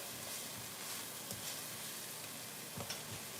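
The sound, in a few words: beef and egg noodles sautéing in a pan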